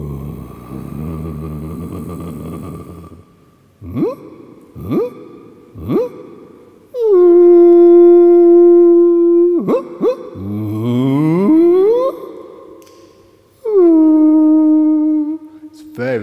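A blackbird's song slowed down about twentyfold becomes long, low, howl-like tones: several short swoops, then sustained droning notes with wavering glides, loud and alone.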